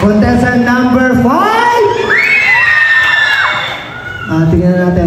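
Loud, close crowd at a contestant show, cheering with shrill children's shouts and whoops, rising in sustained squeals, dipping briefly, then surging again.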